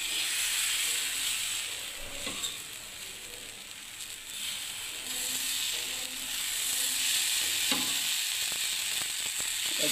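Ata and suji pitha batter hits hot oil in a pan with a steady, close sizzling hiss that holds for the whole stretch, with a few faint clinks of a utensil and no talking.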